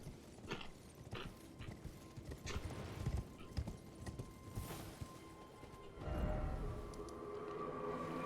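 A horse's hooves clip-clop at a quick, steady trot in a fantasy video game, close and distinct over a busy in-game background, followed by a louder, denser stretch of ambient noise near the end.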